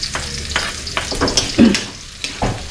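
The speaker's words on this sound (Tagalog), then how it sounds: "Sabay na po natin itong sibuyas saka sili." Sliced onion and dried chili sautéing together in a hot pan, with a steady close sizzle broken by several clattering stirs of a utensil against the pan.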